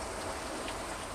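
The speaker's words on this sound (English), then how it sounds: "There's that D-ring drip." Water dripping and pattering from the D-ring of a BakFlip tonneau cover on a Chevy Avalanche, heard as a steady, close, rain-like wash for about a second with no speech.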